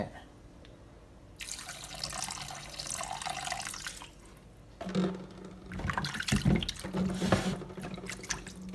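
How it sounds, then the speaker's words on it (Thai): Vinegar poured over chicken feet in a bowl to soak makes a steady running liquid splash, close and fairly loud, with a brief lull midway and a louder, fuller stretch after it. "ถ้าเสร็จแล้วผมจะ เอาน้ำส้มสายชูนะครับ แช่"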